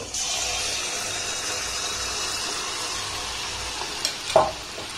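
Malpua batter fries in hot oil in a wok, giving a steady close sizzle throughout with a couple of brief clinks toward the end.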